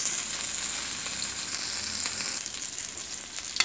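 Chopped onions frying and sizzling in a pan while they brown for a Filipino dinuguan stew, a steady broadband hiss that holds close and continuous, easing slightly near the end.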